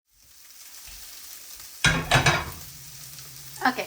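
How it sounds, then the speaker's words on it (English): Chicken meatballs with cilantro, coconut and mango brown in a pan, opening quiet before a sudden loud sizzle burst around two seconds, then settling into a steady sizzle with another short crackle near the end. "Brown all sides of the meatballs 5 to 6 minutes."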